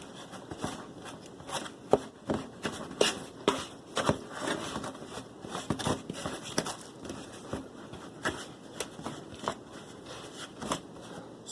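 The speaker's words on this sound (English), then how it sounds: "Now I'm going to take a fork and get this all crumbled together." A fork crumbles apple crisp topping in a bowl, giving quiet, irregular scraping and crunching taps in quick clusters, close and soft, with no talk over it.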